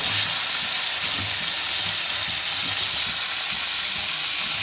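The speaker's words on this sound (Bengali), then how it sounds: "ছোটো চিংড়ি সেগুলো ভেজে নেব" Steady, loud sizzling of small shrimp frying in hot oil, a continuous crackling hiss with faint clinks, no voices.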